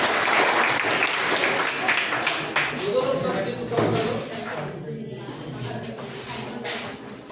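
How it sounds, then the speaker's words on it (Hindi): Strong applause from a school audience welcoming a guest speaker at a mental health and career counselling session in an intermediate college hall, steady clapping throughout with a voice speaking over it near the end. "प्लीज उनके लिए बार जोरदार तालियों के साथ स्वागत किया"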